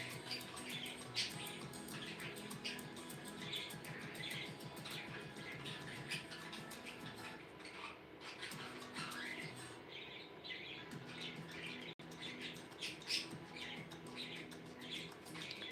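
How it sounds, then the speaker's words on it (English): Pet budgies chattering quietly in the background, a steady layer of soft chirps and tweets running throughout with no talk over it. "The budgies are quietly chattering in the background, which is genuinely a good sign"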